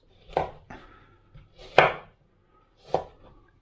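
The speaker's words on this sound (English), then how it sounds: "we are now going to cut this into small, delicate little matchsticks" A knife cuts vegetables into small matchsticks on a cutting board, three separate crisp chops spaced about a second apart, close and clear with quiet gaps between.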